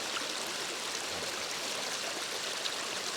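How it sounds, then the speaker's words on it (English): Floodwater rushing steadily over a flooded farm road, a constant broadband wash of flowing water at even loudness throughout, close by with no voices. "So this is a road, not a river, but today it's a river."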